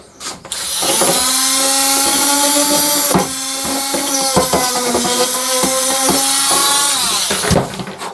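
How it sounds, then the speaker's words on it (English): A power drill bores steadily through a Renault car remote key, a loud close whine with pitch shifts and brief dips as the bit bites, running nearly eight seconds with no talk. "Okay, I'm going to drill a hole."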